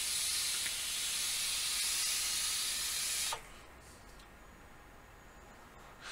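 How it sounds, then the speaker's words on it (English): A vape device gives a loud, steady airy hiss during a long inhale, close to the listener, which cuts off abruptly partway through and leaves a quieter background hush. "Love this vape."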